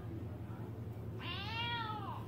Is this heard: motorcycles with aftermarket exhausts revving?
no